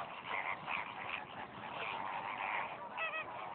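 A flock of flamingos at Kodiyakarai bird sanctuary gives honking, goose-like calls, a continuous chorus of overlapping cries at moderate distance with no voices.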